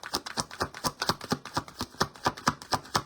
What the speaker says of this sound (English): Any more cards? Last shuffle.